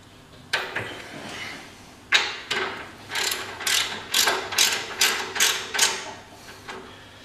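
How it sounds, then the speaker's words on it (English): A ratchet clicks in close, quick strokes while tightening the oil drain plug on a Harley-Davidson Rocker C / Softail, with a few separate clacks first and then a regular run of ratcheting bursts. "put the plug back in. Make sure you tighten it up."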